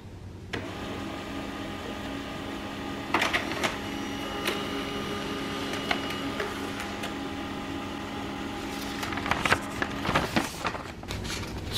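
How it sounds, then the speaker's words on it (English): An HP LaserJet M109w-series laser printer prints a test page: a steady mechanical whir and hum with intermittent clicks and paper-feed clatter, close and moderately loud, building to a busier rattle near the end. "We'll print this test page."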